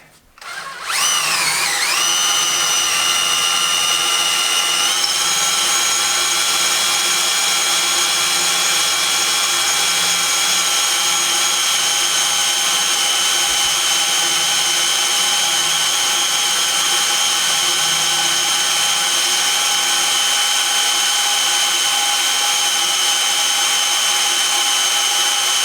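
A hand-held power drill bores into a metal part, spinning up after a brief start and then whining at a steady high pitch for the whole stretch, loud and close with no talk.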